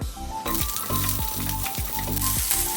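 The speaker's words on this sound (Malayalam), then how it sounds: "ഒരു പാനിലേക്ക് കുറച്ച് വെളിച്ചെണ്ണ ഒഴിച്ചു കൊടുക്കാം അപ്പോൾ എണ്ണ ചൂടായിട്ട് ആ സമയത്ത് നമുക്ക് ചെറിയൊരു സവാളയാണ് എടുത്തത്" Small onion sizzles in hot coconut oil in a pan, a loud, steady crackling fry broken by regular scraping strokes about every half second, with no talk.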